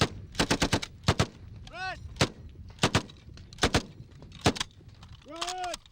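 An M60 machine gun fires short, sharp bursts in a combat setting, loud and close, with brief pauses between volleys and occasional whistling or ricochet-like sweeps among the shots.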